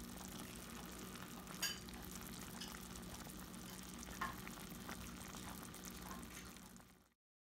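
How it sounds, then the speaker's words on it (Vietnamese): Pork belly cooks in a pot for kho quẹt, a Vietnamese fish-sauce braise, giving a continuous soft bubbling sizzle with a few louder pops before it cuts off near the end. "Đó là thịt nó sôi một nè, rất là ngon hấp dẫn luôn"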